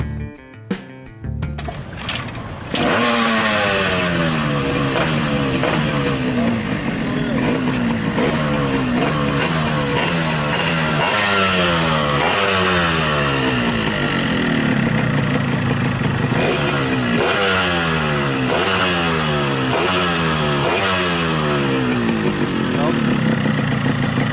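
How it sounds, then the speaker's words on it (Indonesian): A Yamaha 125ZR motorcycle engine starts and runs loudly at close range, its pitch repeatedly rising and falling as the throttle is revved over a rough idle. "kita akan mendengarkan suara motornya satu persatu"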